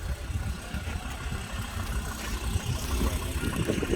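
A used car's engine idles at a car market in Sumqayit, a low, steady rumble with slight pulsing that holds throughout at moderate loudness, with no talking.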